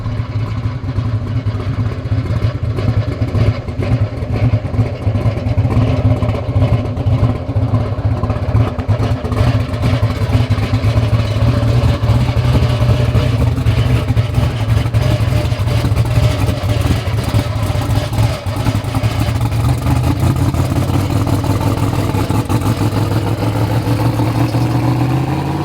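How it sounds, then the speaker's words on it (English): An all-billet torque tube rattles hard as a 2000+ HP Black Sheep engine revs, a loud, steady, rough mechanical roar that fills the whole stretch without letup. "if you guys hear a hellacious rattle, it's the torque tube"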